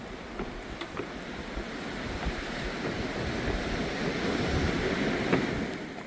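Sea waves wash and churn steadily against a breakwater on the Uljin coast, Korea, mixed with gusting wind noise, with no one speaking.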